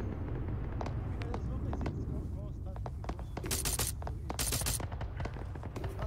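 Gunfire in Arma 3, scattered shots and rattling bursts of distant rifle fire crackling through a busy battlefield, with people talking over it.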